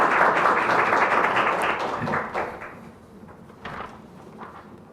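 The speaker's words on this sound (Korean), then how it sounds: "박수로 청해 주십시오." An audience at an intellectual property policy forum applauds a speaker's introduction; the clapping is fairly full at first, then thins and fades out after about two seconds, leaving a few scattered, quieter sounds.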